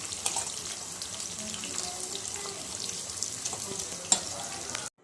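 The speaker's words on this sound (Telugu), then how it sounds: "కొన్ని ఆనియన్స్ తాలింపులో వేసేసేయండి ఇట్లా నూనెలో" Onions frying in oil for chicken curry, a steady close sizzle with light stirring sounds and one sharp click before it cuts off abruptly.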